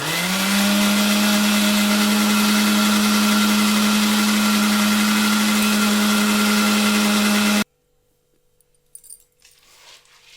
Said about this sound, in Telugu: నేను ఇలా మిక్సీ పట్టుకున్నాను కదా పేస్ట్గా